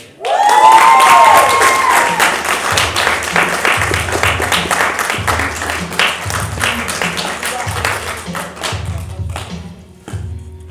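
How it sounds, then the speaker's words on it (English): Audience at a spoken-word poetry competition applauds and cheers a performer, loud and close at first, with a whoop early on and steady thudding stamps beneath, the clapping slowly thinning out toward the end. "Give a round of applause, please, for Joseph Ney-Jun"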